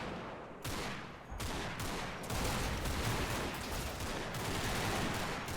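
Sustained volleys of small-arms and machine-gun fire from enemy troops in a World War-era strategy game battle with Italian forces, dense overlapping bursts beginning after a brief lull and continuing loudly throughout.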